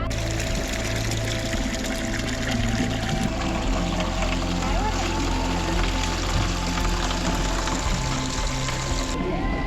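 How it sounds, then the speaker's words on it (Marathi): Water pours and trickles steadily at a public village water source on a monsoon morning near Vikatgad, with a continuous splashing stream and faint background activity throughout. "गावातल्या सार्वजनिक पाणवठ्यावर सकाळी पाणी भरण्याची लगबग सुरू होती"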